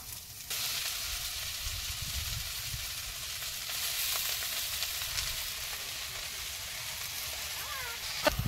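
Washed leafy greens fry in mustard oil with chilli and onion, sending up a loud sudden sizzle that rises sharply and then keeps a steady crackling hiss, with a few clinks toward the end.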